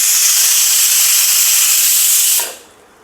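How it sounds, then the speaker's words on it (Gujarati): Pressure cooker whistle releasing steam while drumstick (moringa) curry cooks, one loud continuous hissing blast lasting over two seconds and then cutting off abruptly. "અહીંયા કુકરમાં 1 સીટી થઈ ગઈ છે।"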